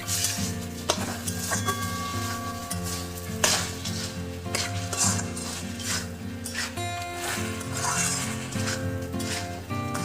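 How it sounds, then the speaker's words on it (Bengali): Goat liver curry stirred in a pan with a little water, a steady sizzle and frying hiss under repeated scraping strokes, set against a constant loud backdrop of music. "অল্প জল দিয়ে নাড়তে থাকবো।"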